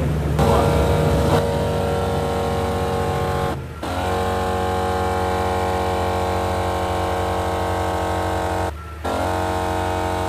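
A truck engine runs while powering a Thor's Lightning compressor, a loud, steady idle with strong harmonic drone and two brief dips where the sound cuts out momentarily, no voices.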